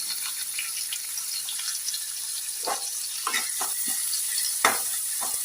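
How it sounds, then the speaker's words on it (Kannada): Onion frying with cumin in a hot pan, a steady loud hiss of sizzling oil with a few scraping stirs toward the end. "ಇವಾಗ ಈರುಳ್ಳಿ ಹಾಕ್ತಾ ಇದ್ದೇನೆ."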